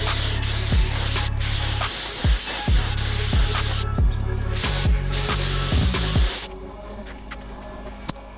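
Black-tinted clear coat is sprayed from a compressed air gun in a loud, continuous hiss with repeated pulsing bursts, then the spray stops and only a quiet room remains.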